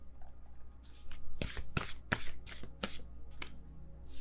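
A deck of tarot cards riffled and shuffled in quick bursts, sharp papery flutters repeating close up with no talking.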